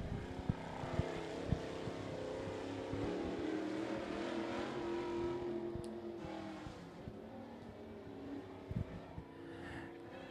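Sportsman-class race car on a qualifying lap at Wartburg Speedway, its engine a steady loud drone with rough pulsing, heard from a distance out of turn four without any speech.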